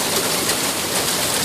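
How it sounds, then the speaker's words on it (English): Heavy monsoon rain pours down in a dense, loud, continuous hiss with no letup, broadband and close throughout. "Heavy rain! Lots of floods!"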